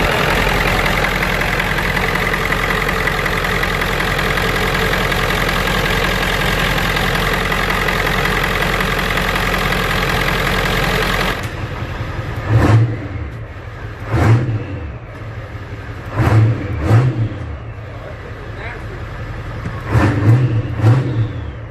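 A 7.3L Powerstroke diesel engine in a 1996 Ford F-350 runs steadily at idle with a deep, constant rumble, then cuts out, leaving a few quieter intermittent knocks and thumps.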